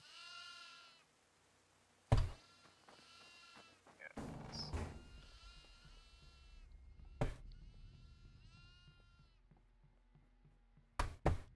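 Goats in the horror video game Devour bleat in several drawn-out cries, separated by sharp knocks and thuds, with a brief spoken reply from a player.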